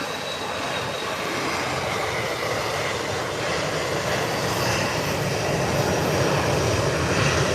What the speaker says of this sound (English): And here's this departure. Look at this takeoff now.